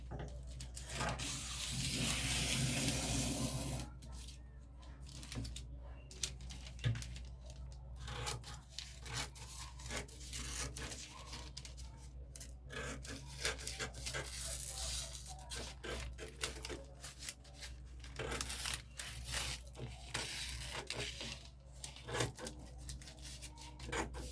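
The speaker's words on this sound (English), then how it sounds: "Now I'm going to go ahead and cut out this pattern." Scissors cutting out a paper sewing pattern for a milkmaid dress, a steady run of close rasping snips and paper rustles over a constant low hum, with no talk.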